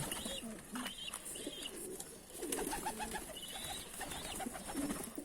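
Pigeons coo softly and repeatedly close by, their low throaty calls overlapping with a few higher chirps and rustling.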